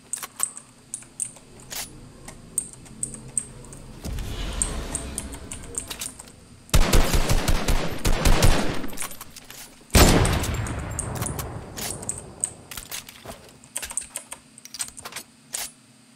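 An opponent's gunfire in a solo video game arena match comes as two dense bursts of rapid shots standing out over a steady backdrop of keyboard clicking and light game noise.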